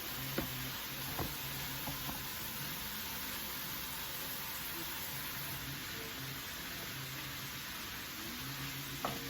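Ground meat frying in a hot pan for stuffed peppers, giving a steady, close sizzle that runs unbroken for the whole stretch, with a few light clinks of a utensil stirring or scraping now and then.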